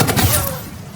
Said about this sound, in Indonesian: Aslam menembak Rahman